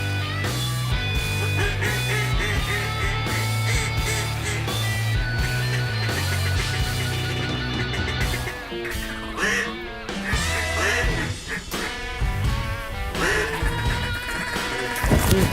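Ducks quack and hunters blow duck calls at a rainy duck hunt from a big blind, with a steady stream of layered quacks and honks, close and loud, running without pause alongside a faint, busy background.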